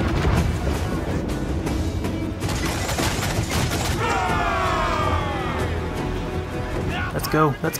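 Broadside cannon fire from a pirate ship in Assassin's Creed IV Black Flag, with a rapid volley of booms and creaking timber over stormy sea noise while someone talks excitedly throughout.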